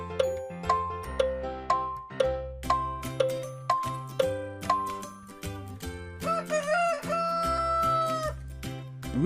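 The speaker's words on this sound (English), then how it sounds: "Rooster." A rooster crows once with a rising, drawn-out call near the end, heard over a bright plucked melody of repeated musical notes.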